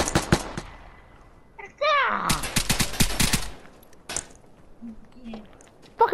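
Video game gunfire: several separate loud shots, then a dense rapid burst of automatic fire, with scattered single shots and a few voice sounds mixed in among the firing.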